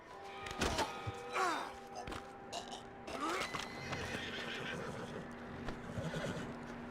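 A horse whinnies loudly several times in the video game Red Dead Redemption 2, with hoof thuds and snorts between the neighs, all close by with no talking.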